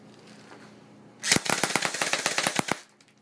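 A WAR INC airsoft gun fires a rapid burst of about a dozen sharp snapping shots lasting roughly a second and a half, close and loud after a quiet start, with no talking.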